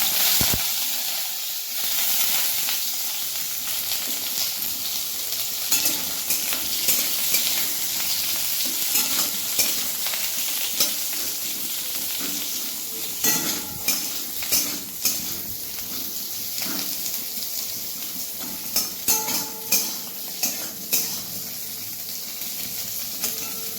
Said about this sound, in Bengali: এবার এই বড়ি ভাজার তেলটার মধ্যে পটলটাকে ভেজে নেব।